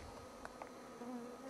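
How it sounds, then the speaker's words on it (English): Swarm of mosquitoes in the Northwest Territories wilderness, a steady faint high-pitched drone with a few brief louder passes close by. "Mosquitoes here don't look very good at all. These are all mosquitoes."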